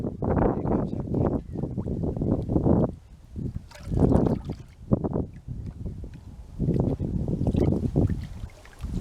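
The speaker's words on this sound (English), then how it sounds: "Here comes that wind." Gusty wind buffets the microphone outdoors beside a creek, coming in several strong rumbling bursts with short lulls between them.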